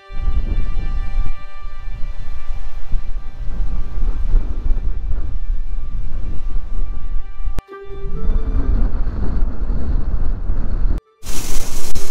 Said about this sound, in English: we got crazy winds.